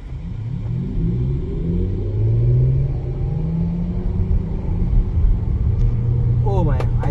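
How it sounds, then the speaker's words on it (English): A Mercedes EQS electric car accelerates from 0 to 100 on a clear road. Steady, loud road rumble carries faint rising motor tones, with a voice present in the cabin. "Let's do some test of acceleration. 0 to 100, road is clear."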